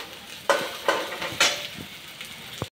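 Bread and egg omelette fries in a kadhai: a sizzle runs underneath while a utensil scrapes and stirs in several sharp bursts, ending with a final clink before silence.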